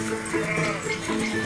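Argentata dell'Etna goats bleat on the slopes of the Etna volcano, several overlapping wavering calls at moderate distance over a steady outdoor hiss.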